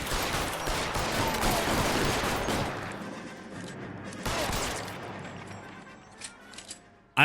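Video game gunfire rattles in rapid bursts for the first few seconds, then fades to scattered quieter shots and game sounds, with a player's voice briefly audible.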